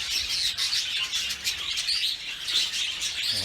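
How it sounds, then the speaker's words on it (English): Birds held in outdoor garden aviaries chirp and tweet without a break, a dense bright chatter of many calls heard close and fairly loud, with no voices. "I like the idea of having birds out in the garden"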